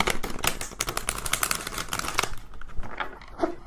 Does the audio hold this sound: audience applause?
no